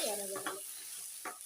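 Sliced tomatoes and onions sizzling in oil for a homemade tomato chutney, with a steady close fry broken by a few quick stirring scrapes, no voices over it.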